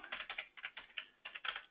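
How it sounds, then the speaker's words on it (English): Quick bursts of typing on a computer keyboard, close and fairly quiet, in an irregular rhythm of clustered key clicks with short pauses between them. "excuse my typing"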